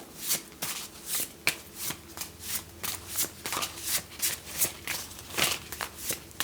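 An oracle card deck is shuffled over and over, riffling in a steady rhythm of quick crisp flutters with soft taps between, close and clear with no talking.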